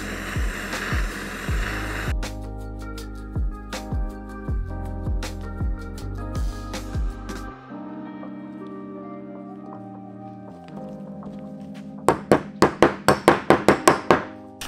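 Bearing race for a Honda RM250 motorcycle hub being tapped into place after heating, a series of sharp metallic hammer knocks, a slower irregular run early on and a quick loud burst of taps near the end.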